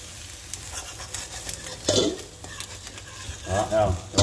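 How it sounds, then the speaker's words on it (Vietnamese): Eggs fry in a pan for bò bía, giving a soft sizzle broken by scraping and light clatter as the egg is pushed around. A voice is heard briefly near the end. "có kỹ thuật chiên trứng"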